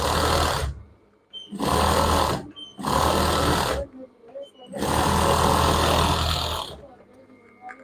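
A sewing machine stitches the seams of children's pajama pants in four loud, close bursts of rapid whirring, separated by short quiet pauses.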